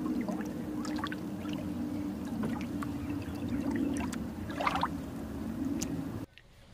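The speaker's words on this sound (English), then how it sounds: "listening to those beautiful waves" Ocean waves wash steadily against a Maui shore with a continuous watery rush and occasional splashes, ending abruptly.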